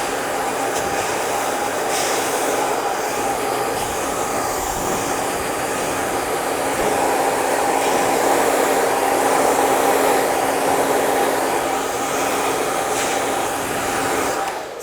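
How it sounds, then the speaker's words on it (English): A blow dryer runs continuously at close range while styling hair for an editorial and runway look, giving a loud, steady whoosh and hum with slight shifts in tone and no voices. "I'm actually going to go back through and just heat up where that parting is"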